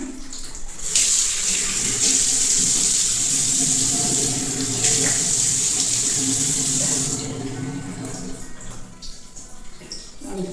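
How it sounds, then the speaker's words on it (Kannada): A tap gushes steadily into a sink during face washing, loud and continuous for about seven seconds before easing to softer splashing and trickling. "ಫೇಸ್ ವಾಶ್ ಮಾಡ್ತಿದ್ದೀನಿ."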